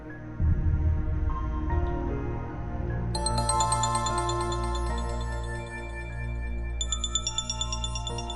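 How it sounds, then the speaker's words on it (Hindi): A mobile phone ringtone plays steadily for about eight seconds, a bright melodic tone that grows fuller and higher partway through, with a low hum underneath and no talking. "मुसलसल तुम्हारा फोन बज रहा था।"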